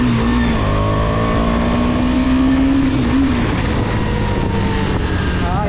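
A KTM Duke 250 motorcycle engine runs loud and close, a steady droning roar with a rising and falling rev tone throughout.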